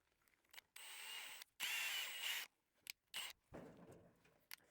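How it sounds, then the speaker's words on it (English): A power drill whines in short bursts at an outback boundary bore, two longer runs followed by quick stop-start pulses, close and moderately loud with quiet gaps between. "I'll get the drill"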